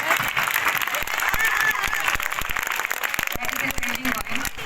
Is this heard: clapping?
yes